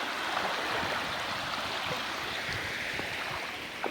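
Jamuna river floodwater rushes like a waterfall through a village in monsoon season, a steady, loud, broadband roar of churning water that continues without a break.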